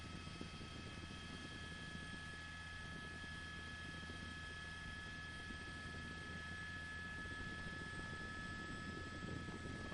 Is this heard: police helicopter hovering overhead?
yes